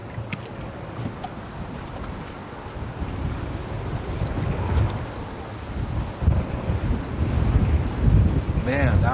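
Strong wind gusting by a lake, a loud rumbling roar buffeting the microphone and building in force, with choppy water beneath it and a faint bird call near the end.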